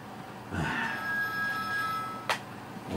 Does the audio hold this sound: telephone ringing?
yes